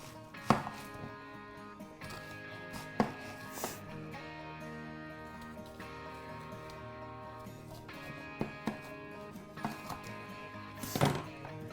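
A kitchen knife cuts onions into thick half- to three-quarter-inch rings for onion rings on a cutting board, sharp close chops spaced a few seconds apart over a steady background hum, no talking.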